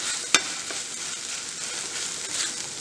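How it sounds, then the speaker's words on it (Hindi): Paneer filling being stirred in a pan over low gas, a steady soft sizzle with one sharp spoon scrape near the start and a fainter clink after, close and alone without voices. "हल्की गैस में हम इसको मिक्स करेंगे।"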